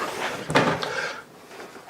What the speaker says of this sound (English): I'm going to pop open one of these doors just so you can see all the storage in here